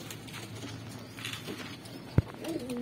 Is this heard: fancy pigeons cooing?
yes